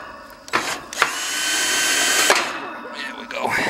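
Power drill backing screws out of a Ruud HVAC condensing unit, several short whirring bursts and a longer steady run, close and fairly loud.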